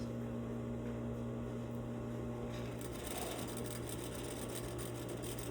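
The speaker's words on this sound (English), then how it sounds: "Basting stitch all the way through." A domestic sewing machine runs a long basting stitch along a centered zipper seam, a steady quiet mechanical whir that picks up speed partway through, with no talking.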